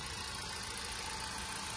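A car engine idles steadily up close, a continuous broadband rumble with no breaks or voices across the short stretch.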